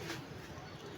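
Young racing pigeons from a flock give a brief, faint cooing call. It is soft and carries over a low, steady outdoor background.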